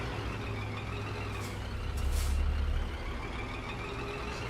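A heavy truck in Euro Truck Simulator 2 rumbles steadily at low pitch as it drives and manoeuvres, swelling louder for a moment midway, with short airy hisses of air brakes breaking through near the middle.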